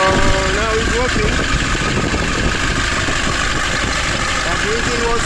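A 2005 Nissan Urvan diesel engine idles loudly and steadily up close, a continuous rough rumble with no breaks, just after being revived from years of sitting.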